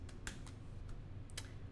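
Typing on a computer keyboard, a few sparse, crisp key clicks at uneven intervals, close and fairly quiet against a faint background hiss.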